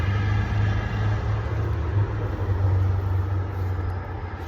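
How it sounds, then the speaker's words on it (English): Road traffic rumbles steadily in the background on a breezy morning, a low continuous drone of passing cars and heavier vehicles without any single standout pass. "Obviously, there's some traffic."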